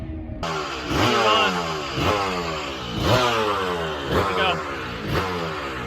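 A Yamaha TZ250 two-stroke GP racing motorcycle revs hard and close, its engine rising and falling in repeated sharp blips about once a second, with a brief voice speaking at the start.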